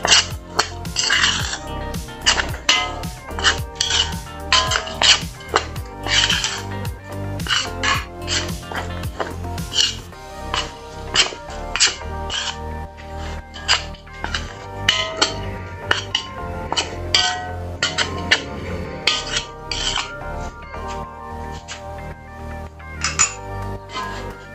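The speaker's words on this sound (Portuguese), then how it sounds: "Vou mexer aqui." A spoon stirs cheese biscuit dough in a pot, with steady scraping and frequent sharp clinks against the metal for the whole stretch, fairly loud and close, over a dense, constant background.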